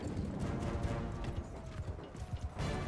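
Horse hooves from the video game Mount & Blade II Bannerlord clop in a quick, continuous rhythm, with rough thuds over a dense, rumbling battle background.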